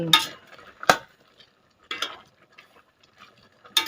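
A utensil stirring fresh bamboo shoot curry with cha-om in a pot, northern Thai style, heard as a few sharp scraping knocks spaced apart in a quiet kitchen.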